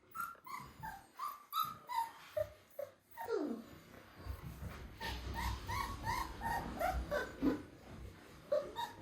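Puppies give a run of high squeaks, yips and whimpers, close and fairly loud, with soft pauses between the cries and some lower rustling underneath.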